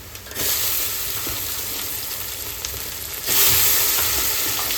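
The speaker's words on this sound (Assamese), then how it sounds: "এতিয়া আমি অকণমান চাউলখিনি আৰু পিঁয়াজখিনি ভাজিম এনেকৈ একেলগতে।" Rice and onions fry together in a pan for mutton korma pulao, a close, steady sizzle that swells louder partway through as stirring continues, with no talk.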